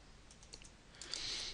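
Computer keyboard typing a search into Google Maps, soft scattered key clicks at first, then a quicker, denser run of taps, quiet and close with no voices.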